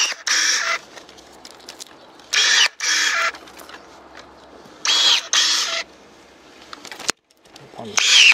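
Soojook SJ-935 32 mm battery-powered electric pruning shears snip through branches in several sharp, loud bursts, a few close together, with quieter outdoor background and faint birds between cuts.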